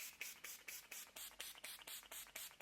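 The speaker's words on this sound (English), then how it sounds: "we can complete this with our setting spray" Rapid bursts of makeup setting spray mist, about a dozen short quick hisses in a steady rhythm, close and soft.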